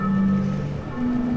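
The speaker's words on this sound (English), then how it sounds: "It's the sound of a sea organ." Sea organ on the Zadar waterfront, where ocean water pushes air through pipe holes under stone steps, giving soft sustained breathy tones that shift pitch over continuous wash of waves.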